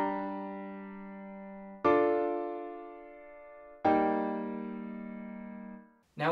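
Solo violin plays a piece from Genshin Impact kept in a major key, with three long held notes that each swell in and gently decay, close and unaccompanied, ending with a quick new attack.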